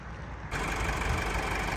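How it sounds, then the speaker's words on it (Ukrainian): A Honda CR-V engine catches and settles into a steady, loud idle, a continuous rumbling hum close by. "Зараз заведу автомобіль, покажу вам його, як працює мотор"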